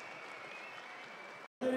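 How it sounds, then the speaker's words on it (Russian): Applause from a boxing tournament crowd after a bout, heard as a soft, distant wash of clapping that cuts off abruptly just before the end. "Шикарный поединок, давайте еще раз аплодисменты."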